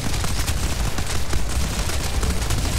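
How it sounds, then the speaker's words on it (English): Grenade launcher fire in the video game Tower Unite, a dense, steady barrage of overlapping bangs and booms with no pause, loud and chaotic, no voices. "I got a grenade launcher."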